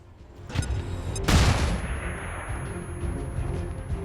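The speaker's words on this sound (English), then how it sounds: "use the last grenade. Flashbang those 2 Advent." A flashbang grenade goes off among Advent soldiers in XCOM 2 (Long War 2 mod): a short clatter, then one loud sharp bang with a lingering ringing tone and fading rumble.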